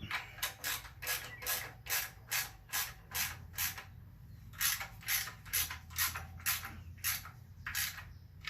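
A ratchet snugs down bolts on a Quad 4 E16 engine's timing chain housing, a steady run of about twenty evenly spaced clicking pulls, close and moderately quiet, with no talk.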